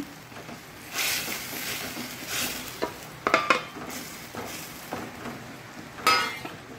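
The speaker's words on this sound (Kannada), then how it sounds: "ನೀರನ್ನು ಹಾಕ್ಕೊಂಡು ಈ ಫ್ರೈ ಮಾಡಿಟ್ಟುಕೊಂಡಂತಹ ಬೆಂಡೆಕಾಯನ್ನು ಇದರಲ್ಲಿ ಹಾಕ್ಕೊಳ್ತಿದ್ದೇನೆ" Fried okra being added and stirred into masala in a pan: a soft sizzle broken by several scraping stirs and sharp spoon-on-pan clinks, close and intermittent.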